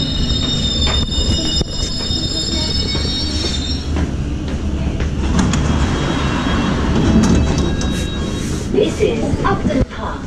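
A train arriving at a station rumbles steadily close by, with faint squealing wheels and scattered clatter over a continuous low roar.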